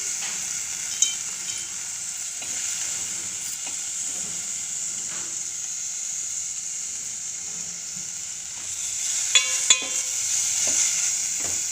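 Cut paneer frying in a pan with masala, a steady close sizzle and hiss with a few sharp scrapes and clinks from stirring, no voices.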